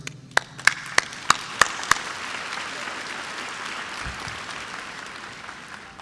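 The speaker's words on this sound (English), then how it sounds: "Please hold your applause until the entire party has introduced" Audience applause at a college spring commencement, opening with a handful of sharp close claps and building into a steady wash of clapping from a large crowd.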